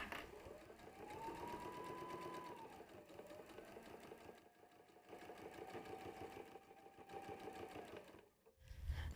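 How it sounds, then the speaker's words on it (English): Sewing machine stitching across a bag flap, a steady rapid mechanical whir running continuously with brief changes in pace and a short stop near the end, close and fairly quiet with no talking. "back stitch here, stop stitching, back stitch again at the beginning of the stitch line again, and then straight across to the edge"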